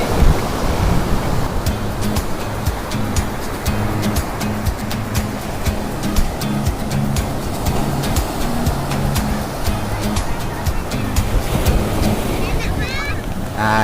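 Surf rushes and washes continuously on a windy shore, with wind buffeting the microphone and occasional voices in the background.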